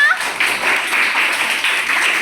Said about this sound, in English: Clap for Chetna.